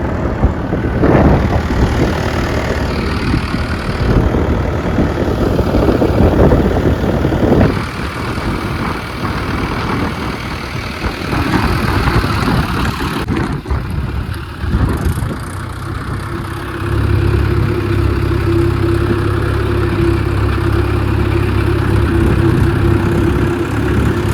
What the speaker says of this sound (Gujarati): હવે ટ્રેક્ટર લઈ જવાના છે મિત્ર